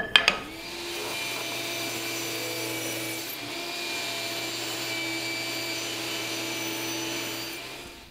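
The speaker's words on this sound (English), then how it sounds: "I've set my table saw to 45 degrees." A table saw cuts strips of cherry wood, first spinning up, then holding a steady loud whine with a low hum for several seconds as the blade passes through the board, then winding down, with no speech.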